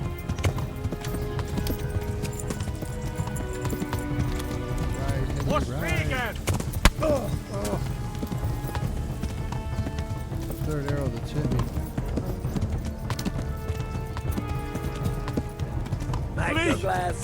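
Hooves clip-clop steadily as a horse gallops in the medieval game Kingdom Come: Deliverance, with occasional neighs and whinnies, under near-constant talk and game voices.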